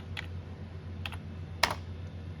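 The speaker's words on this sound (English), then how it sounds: "So type it in." Several quiet bursts of typing on a computer keyboard during a Motorola 6-metre repeater build, with a few short clusters of key clicks and one sharper keystroke near the end.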